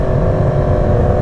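A Yamaha MT-10 (FZ-10) motorcycle engine pulls hard under throttle, a dense, buzzy exhaust drone held close and loud through a brief burst.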